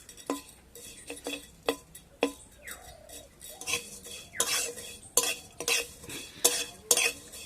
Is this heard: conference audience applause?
no